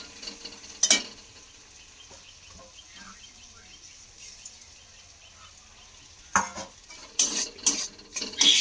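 Tomatoes and spices are stirred into a jackfruit and prawn dish in a pan: scattered spoon scrapes and knocks with a faint sizzle in between, quiet stretches, then a cluster of louder scrapes at the end.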